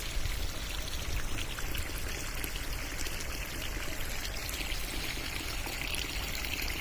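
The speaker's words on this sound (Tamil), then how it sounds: "எப்படியோ தண்ணி விட்டாச்சு" Water pours and gushes steadily into farm field beds in a continuous, close rushing stream, with no voices, lasting throughout.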